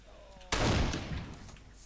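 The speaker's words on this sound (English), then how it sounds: "Give me that bloody shotgun." Video game shotgun firing a single loud, sharp blast that booms and decays over about a second, heard up close without speech.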